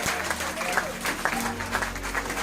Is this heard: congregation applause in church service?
yes